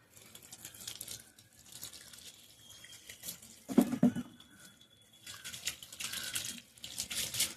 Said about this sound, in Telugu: ఇదిగోండి నీళ్ళు అయితే పోసుకోవాలి